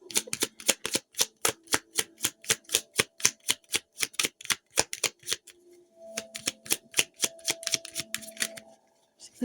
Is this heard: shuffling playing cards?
yes